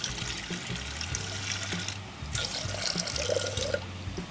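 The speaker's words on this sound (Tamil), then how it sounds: "தண்ணி ஊற்றி" Water poured into wheat flour dosa batter with salt in a home kitchen, a continuous trickling, splashing stream with light drips, fairly close and moderately quiet, no talk.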